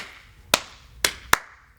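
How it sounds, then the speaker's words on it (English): Three sharp, widely spaced hand claps ring out in a slow, deliberate rhythm, close and fairly loud, with quiet room tone between them. "Slow clap."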